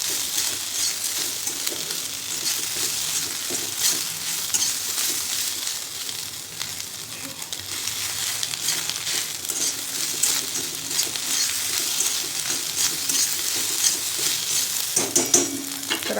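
Onion and boiled, drained soya chunks sauté in a hot pan, giving a continuous close, even sizzle with soft stirring scrapes and a few light metallic clinks near the end.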